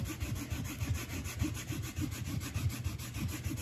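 Paint being scraped off a surface by hand in quick, rhythmic strokes, a close, soft rasping that repeats steadily without pause and with no voices.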